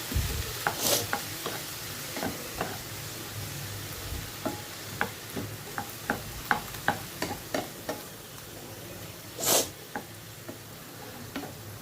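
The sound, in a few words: broccoli rice frying and being stirred in pan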